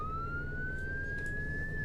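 Wail police siren from the Roblox game ER:LC, a single slow rising tone that sweeps steadily upward, loud and continuous over a low engine rumble.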